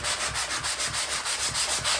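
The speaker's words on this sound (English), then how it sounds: "and then I just grab a piece of sandpaper and do this" Sandpaper rubbed by hand into the corner of a bathtub during refinishing: steady, close, rhythmic back-and-forth scratchy strokes, about eight passes in two seconds, with no talking.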